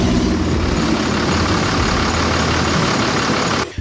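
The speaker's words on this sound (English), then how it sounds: "We just took the Ranger for its first rip" A Ford Ranger race truck on its first test run with a new clutch on back roads, its engine a loud, steady, close rumble that cuts off abruptly near the end.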